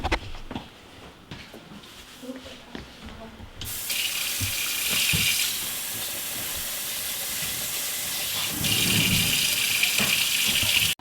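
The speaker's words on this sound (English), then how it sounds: "Alright, now let's go wash our rice." Tap water runs steadily into a kitchen sink while rice is washed, a broad continuous hiss that starts abruptly and holds loud, with brief clatter and handling before it begins.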